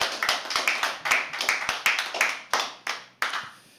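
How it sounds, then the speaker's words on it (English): An audience at a poetry open mic claps in a short burst of about a dozen sharp, uneven claps, close and fairly loud, thinning out toward the end. "can we all clap for them?"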